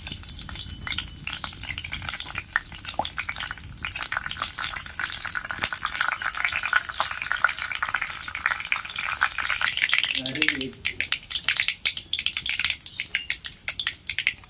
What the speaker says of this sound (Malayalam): എണ്ണ ഒഴിച്ചു കൊടുത്തിട്ടുണ്ട് ചൂടായി. ഇനി കടുക് ഇട്ട് കൊടുക്കുന്നു.